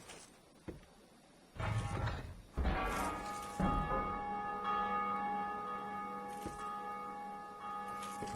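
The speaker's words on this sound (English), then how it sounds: "Ring the bell. That means the door is going to open." In the video game Dark Souls 2: Scholar of the First Sin, a large belfry bell is struck a few times in succession, each heavy clang blooming into a sustained metallic ring that hums on and slowly fades.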